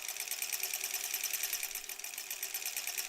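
A sewing machine stitches curved fabric pieces in one continuous run, producing a fast, steady, rhythmic whirring and ticking at close range with no pauses.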